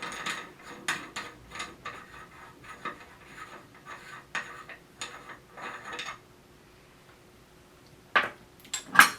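Metallic clicking and ratcheting as the headset lock nut is loosened on an aluminium micro scooter, a string of close, quiet ticks and scrapes, then a pause before two sharper clanks near the end.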